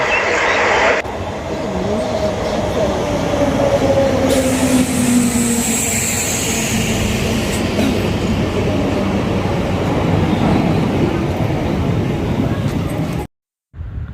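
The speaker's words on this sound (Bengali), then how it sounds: "আসানসোল যাওয়ার ট্রেন এসে গেল আমরা এই লোকাল ট্রেনে করেই আসানসোল যাব" A local train bound for Asansol on the Purulia–Howrah line pulls into a station. Its loud, steady rumble and rattle fill the whole stretch, with a long grinding screech, and it cuts off abruptly just before the end.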